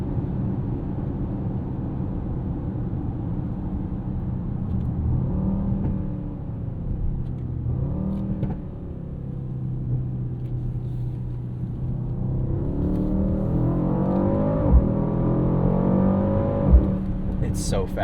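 A 2025 Mercedes-AMG GLE 63S with its 603 hp biturbo V8 pulls hard through paddle-shifted gears, the engine climbing and dropping in pitch with each shift inside the cabin while a person talks over it.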